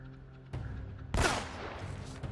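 Gunfire in the video game Uncharted: Drake's Fortune: one sharp shot followed by a louder, heavier blast that rings out and decays, over a low game background.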